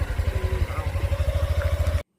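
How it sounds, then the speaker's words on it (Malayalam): A motorcycle chugs close by with a steady pulsing engine beat as it is ridden off, lasting about two seconds before the sound cuts to silence. "ഏട്ടൻ അതാ ബൈക്ക് ഓടിച്ച് മുന്നിക്കാണ്ട് പോയിട്ടോ"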